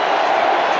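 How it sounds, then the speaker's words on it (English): A T20 cricket stadium crowd roars steadily as a batsman nears his century, a dense, continuous wall of cheering and shouting that fills the whole moment. "The crowd's going nuts here."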